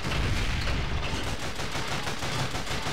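Rapid gunfire from the player's weapons in the video game Call of Duty: Finest Hour, dense overlapping bursts of shots at a loud, steady level with no talk.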